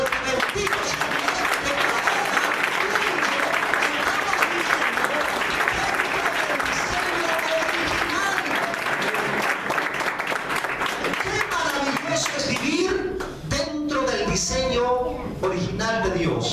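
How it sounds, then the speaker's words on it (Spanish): A church congregation applauds, a dense, sustained wash of clapping hands filling the room, steady and loud throughout, with a voice speaking over it near the end. "yo quiero que le des un fuerte aplauso a Dios"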